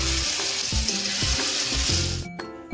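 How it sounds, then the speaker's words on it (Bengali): Sesame fritters frying in a shallow layer of oil give a steady, close hiss throughout, with a few muted low bumps, ending on a brief sharper clatter. "আর একবার অল্প একটু তেল দিয়ে দিচ্ছি, বাকিটাকেও ভেজে নিচ্ছি আস্তে আস্তে"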